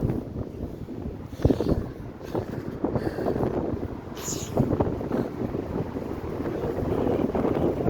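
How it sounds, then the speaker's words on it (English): Strong gusts on a very windy day in the Essex countryside buffet the microphone with loud, rumbling roars that rise and fall over eight seconds. Faint higher rustles sit in the background. "bloody windy day."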